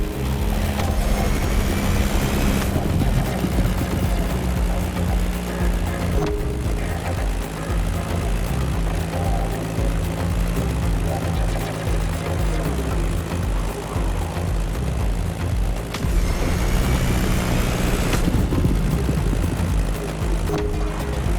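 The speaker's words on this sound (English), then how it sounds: "That Beechcraft Stagger Wing is truly a beautiful piece, isn't it? And a great choice for that flight." A Beechcraft Staggerwing biplane flies in the racing video game The Crew Motorfest, its propeller engine droning steadily and loudly, swelling and easing a few times as it passes through the course.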